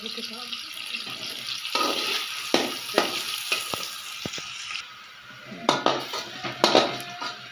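Onions frying and browning in a pot for a Punjabi-style chicken pulao, a steady sizzle with occasional stirring scrapes and clinks of the utensil against the pot, close by, with someone talking at times.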